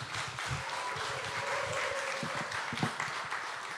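An audience at a game creation audition claps after a team's presentation, dense and continuous applause with a few louder claps toward the end and faint voices mixed in.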